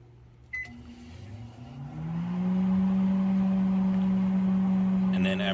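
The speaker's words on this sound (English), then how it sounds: "Let's go ahead and put it in the microwave." A microwave oven runs while heating a cup of white vinegar, starting with a click and then a steady electric hum that swells and holds loud and even to the end, with a brief beep near the close.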